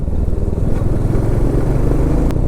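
A Royal Enfield Meteor 350 motorcycle engine rumbles loud and steady up close, a continuous low throbbing drone as the bike rides along.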